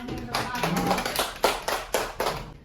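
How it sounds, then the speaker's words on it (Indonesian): Classmates clap for a presenting group in a school classroom, a short burst of separate hand claps over voices, with several sharper claps standing out near the end. "Tepuk tangan buat temennya"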